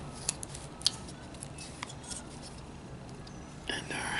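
A knife whittling wood to carve a hobo burro figure, producing small close scraping cuts and a few sharp snicks over a soft background hiss, with a rustle near the end.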